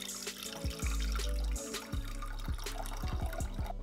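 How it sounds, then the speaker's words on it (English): Pickle brine pours from a jar into a saucepan, a close, quiet run of liquid with scattered drips and small splashes, heard alone without talk. "we're going to pour the liquid out into a saucepan."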